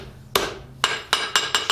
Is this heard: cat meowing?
no